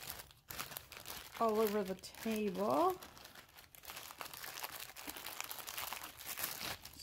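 A plastic bag crinkles and rustles close by while tiger eye beads are bagged at a table, with a voice talking briefly over the crackling.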